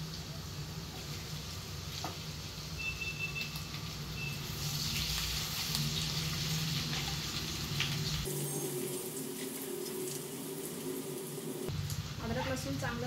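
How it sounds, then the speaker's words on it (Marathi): Ginger and garlic frying in a pan for corn rice, a steady close sizzle that swells midway and then drops toward the end, with a voice talking over it. "अद्रक लसूण चांगलं भाजून घेतल्याने त्याचा कच्चापणा निघून जातो।"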